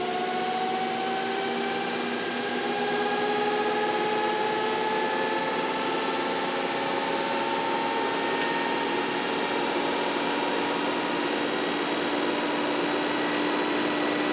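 An electric motor powered from a substantial battery charger spins at roughly 1300 RPM, giving a steady whine with tones that rise slightly and settle, loud and close, with no talk.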